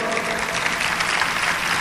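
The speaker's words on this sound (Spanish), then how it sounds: "Lo recibimos con un fuerte aplauso." An audience at a talk marking 70 years of Israeli independence gives a strong round of applause to welcome the speaker, dense, loud clapping throughout with a faint murmur of voices underneath.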